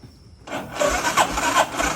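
A Yamaha Raptor clone ATV cranks on its push-button starter after a short quiet moment, catching and running with a rough, uneven mid-pitched engine sound close by.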